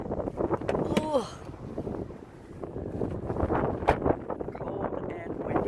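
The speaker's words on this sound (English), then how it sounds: "Cold and windy." Cold wind blusters outdoors at a near microphone, with steady low buffeting and gusts, while a voice talks briefly over it.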